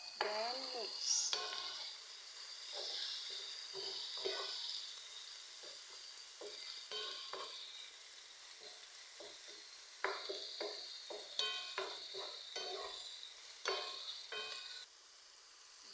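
Meat with salt, black pepper and meat masala being mixed in a frying pan, soft sizzling with repeated scraping stir strokes, fairly quiet, a voice speaking briefly.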